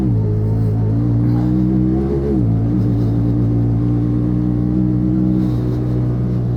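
A 2020 Honda Talon 1000X-4 four-seat side-by-side drones steadily in sport mode on a trail ride, its engine note loud and close, dipping briefly before settling back into a continuous rumble.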